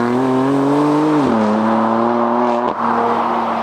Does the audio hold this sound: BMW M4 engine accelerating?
yes